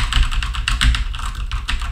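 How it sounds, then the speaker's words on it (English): Quick bursts of keystrokes on a Cherry-switch CoCo 2 computer keyboard, crisp clicky presses close up in an irregular fast rhythm, with no voices. "Again, a Mr. Dave 6309 Cherry CoCo keyboard."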